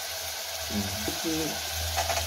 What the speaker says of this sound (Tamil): இப்போ வந்து இது ரெண்டும் சேர்ந்து நல்லா வதங்கணும்